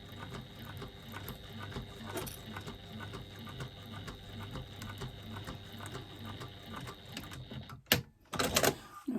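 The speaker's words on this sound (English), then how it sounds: "longest stitch you've got on your machine, basting at an 1/8 of an inch seam allowance" A sewing machine runs a long basting stitch along a fabric penny pouch with a steady, close mechanical whir, ending in a few clunks of handling.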